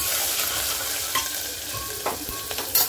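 Ginger garlic paste, added after asafoetida, sizzles steadily in hot oil while being stirred, with a few louder scraping bursts near the end.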